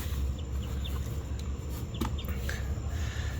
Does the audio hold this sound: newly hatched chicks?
yes